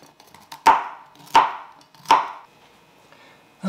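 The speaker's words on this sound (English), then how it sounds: "we're going to chop it up into some smaller pieces here to be able to go into that casserole really easily" A knife chops broccoli on a cutting board: three sharp, evenly spaced thuds, close and clear, with no talk.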